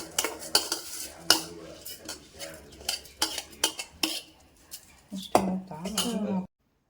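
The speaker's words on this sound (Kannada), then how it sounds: "ಅದನ್ನ ಇವಾಗ ಮಿಕ್ಸಿ ಮಾಡಬೇಕು" Utensil clinks and scraping as homemade butter and a little salt are mixed together in a bowl, a series of close, irregular metallic taps and stirring strokes ending in a brief steady rub before stopping.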